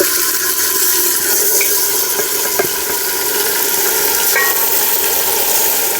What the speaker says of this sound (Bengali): এবার আগে থেকে ম্যারিনেট করা মাটনটা দিয়ে দেব